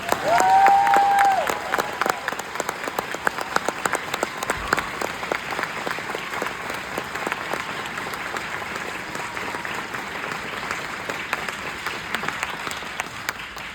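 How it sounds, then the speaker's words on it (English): Sustained audience applause for veterans at a Veterans Day ceremony at a Christian school, a dense and steady clapping wash lasting about fourteen seconds, loudest at the start, with a brief whistle-like tone near the beginning. "If we could we give one more round of applause for our veterans today?"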